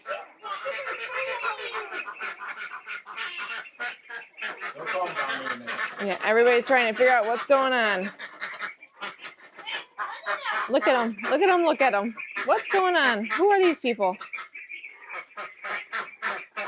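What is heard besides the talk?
newly added ducks quacking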